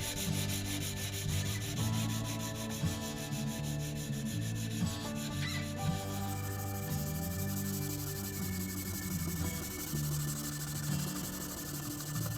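Shellac ground coat is rubbed by hand onto the wooden body of a tenor nyckelharpa. Soft, steady friction strokes repeat close by at low volume, with no voices.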